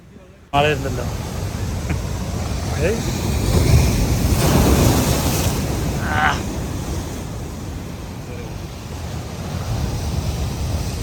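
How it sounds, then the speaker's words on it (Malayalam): Steady broadband rush of high ocean surf with wind noise, swelling and easing over several seconds, with brief voices mixed in, heard far out on a shallow sea flat. "ഇവിടെ തിരമാലകൾ ഇങ്ങനെ ഉയർന്നു പൊന്താണ് കേട്ടോ"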